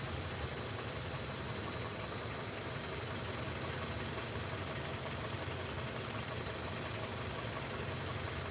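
Car with 200,000 miles idling after a Liqui Molly treatment, a steady even engine rumble with a faint tick, continuous and close, no voices.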